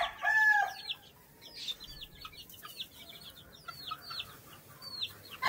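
White Kelso gamefowl hens on a game farm, clucking and calling repeatedly in short bursts throughout, moderately close with no talking.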